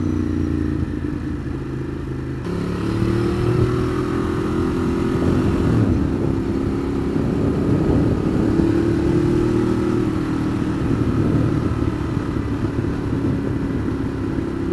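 A 2015 Ducati Monster 821 being ridden, its engine and exhaust giving a loud, steady drone with a shift in pitch early on, then sustained throttle mixed with wind noise.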